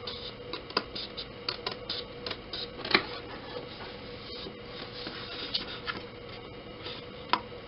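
Scissors cut a paper card along drawn lines, a close, faint run of crisp snips and scratchy paper rustles repeating irregularly over a steady low background hiss, with no speech.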